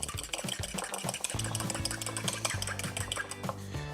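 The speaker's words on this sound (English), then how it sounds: "Whisk in the eggs, looking for that nice, sort of rich, textured, smooth paste" Eggs being whisked into blondie batter in a bowl, a steady scraping and tapping of the whisk against the bowl with faint rhythmic strokes and a low background hum.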